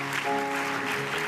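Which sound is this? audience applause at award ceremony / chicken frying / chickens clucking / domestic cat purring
audience applause at award ceremony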